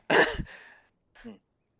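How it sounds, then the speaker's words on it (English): One sharp, explosive sneeze close to the listener, followed after a short pause by a quick breathy sound. "I'm going to sneeze."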